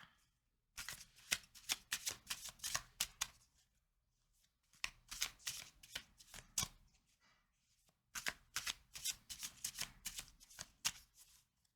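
Tarot cards are riffle-shuffled close up in three distinct bursts of rapid flicking and snapping, each lasting a few seconds and separated by short pauses, with no talking.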